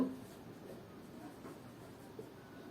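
A pen or chalk scratches quietly across paper or a board while math is worked out, a faint continuous rasp with small strokes, soft and close.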